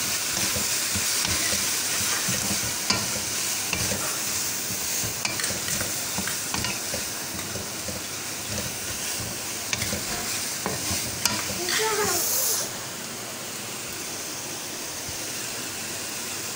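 Spices sizzle and fry in a pan for desi chicken chowmein while a utensil stirs and scrapes in quick strokes, the loud crackle dropping away abruptly near the end.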